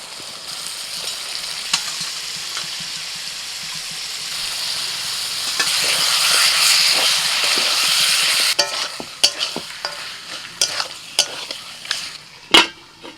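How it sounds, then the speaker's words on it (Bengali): Mutton goes into a pan of cooked-down masala, a rising hiss of frying swelling midway, then sharp spatula scrapes and knocks against the pan as it is stirred, close and loud, with no talking. "এবার আমি দিয়ে দিচ্ছি মটন।"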